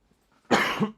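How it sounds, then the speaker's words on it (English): A single sharp cough, close and loud, lasting about half a second, with no speech around it. "I think I feel a cough coming on"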